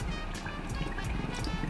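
A copepod bottle is rinsed in saltwater aquarium water, giving a short burst of close sloshing and bubbling splashes with quick, uneven churning over a low hum of running equipment.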